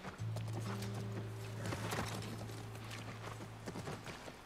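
Horse hooves clip-clopping near a ranch in the video game The Last of Us Part 1, a steady walking rhythm over a low sustained game music drone, with a brief whinny-like sound partway through.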